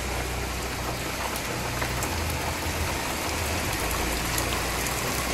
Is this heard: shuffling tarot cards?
no